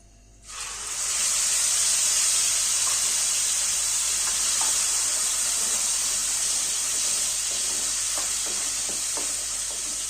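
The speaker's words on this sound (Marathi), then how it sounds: "जिरं चांगलं तडतडलं का मग कांदा आणि टोमॅटोची पेस्ट टाकायची आपल्याला।" About a spoonful of cumin seeds crackles in hot oil for a dhaba-style whole masoor dal, with a loud, continuous sizzling hiss and scattered small pops, close up, and no talking.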